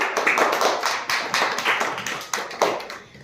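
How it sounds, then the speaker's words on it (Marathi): Hands clap for a child after a matchstick equation puzzle: a burst of brisk, fairly close applause from a small group, lasting about three seconds with no talk. "जोरात टाळ्या"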